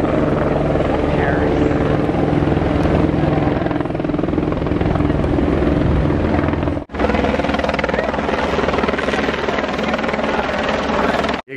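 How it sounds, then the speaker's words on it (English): A helicopter is heard from on board during a birthday surprise ride, its loud, steady rotor and engine roar continuous throughout with a brief dip near the end. "we jumped on a helicopter"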